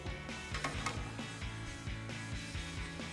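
A ratchet clicks in quick repeated strokes, close and fairly faint, while loosening a brake caliper bolt on a Jeep Wrangler JK.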